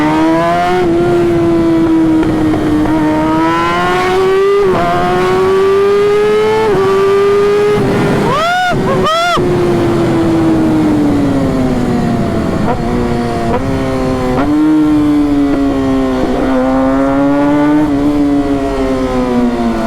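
A Kawasaki ZX-6R motorcycle at full throttle runs loud and close for the whole stretch, its high engine note rising through the gears, with quick drops at each shift and a sharp burst of revs near the middle.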